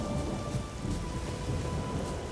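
Thunder from lightning rolling through a stormy scene in The Witcher 3, a continuous low rumble with rain-like hiss, steady and fairly loud with no voices.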